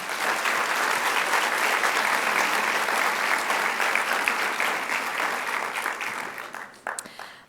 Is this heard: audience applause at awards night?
yes